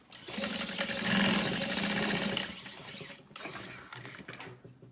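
A sewing machine top stitching the lining of a backpack, a close steady mechanical whir of rapid stitches that eases off and picks up briefly again before stopping.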